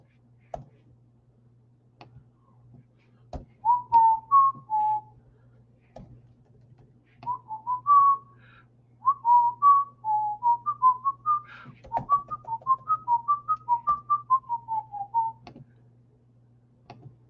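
A person whistles a meandering tune in short phrases of clear pitched notes against a quiet room with a faint steady hum and occasional clicks.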